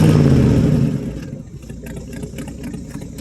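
Small-block V8 in a 1967 Chevrolet C10 held at raised revs after a cold start, loud and close, then dropping back to a rough, uneven idle.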